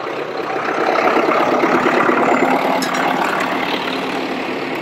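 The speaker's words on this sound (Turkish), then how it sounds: "büyük domuzu Mehtap almaya geldi traktörle alacak." A tractor engine rumbles steadily nearby, a loud, constant mechanical drone with no breaks.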